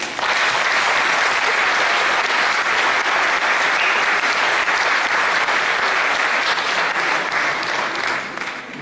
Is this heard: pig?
no